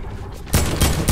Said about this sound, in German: Oh, die schießen jetzt.